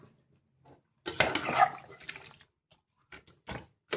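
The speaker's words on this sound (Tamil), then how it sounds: "தண்ணி ஊற்றிடுவோம்." Water is poured into a cooking pot of mutton soup with ginger-garlic paste, a short splashing gush followed by a few scattered drips and light clinks, quiet and close.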